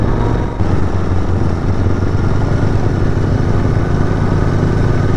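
A twin-cylinder Royal Enfield GT 650 motorcycle exhaust rumbles loud and close, a continuous deep throbbing idle with a brief dip early on, then a steady growl throughout.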